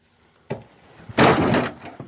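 Door of a 1987 Chevrolet Monte Carlo, an original luxury sport door on a crushed car, being handled: a sharp clunk, then a loud, longer rattling crash of metal and glass, close by, with no talking.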